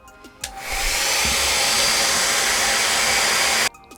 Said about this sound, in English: I have my hair dryer. I'm gonna put it on low.